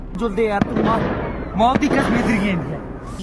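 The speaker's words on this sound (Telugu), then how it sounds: "ఇంతలోనే తుపాకీల మోత." Gunfire sound effect in a re-enactment of the Pahalgam terror attack on tourists in Kashmir: a couple of sharp shots crack out under steady talking.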